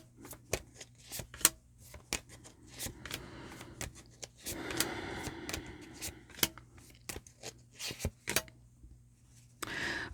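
Tarot cards are shuffled by hand in quick riffles and soft slaps, with irregular bursts of crisp card noise throughout and no talking.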